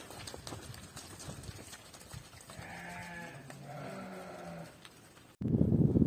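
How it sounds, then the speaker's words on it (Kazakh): Sheep bleat in a mountain pasture, a flock with a few clear, wavering calls in the middle over hoof clops and outdoor rumble, ending in a loud burst of wind noise. "Мына мондай жайыты барлар, койлорду көрүңүздөр."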